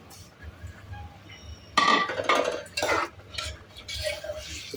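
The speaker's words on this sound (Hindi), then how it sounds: "इसको थोड़ा भूनूंगी मैं।" A metal spoon stirs and scrapes soaked masoor dal roasting in a pressure cooker, with clinks and scraping strokes against the pot coming in bursts after a quiet start.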